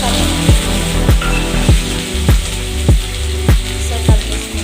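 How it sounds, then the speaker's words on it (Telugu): Mustard seeds and curry leaves crackle in hot oil, a bright steady sizzle broken by regular loud knocks roughly every half second, and no talking. "ఆవాలు చిట్టుపడి అంటున్నాయి కదా"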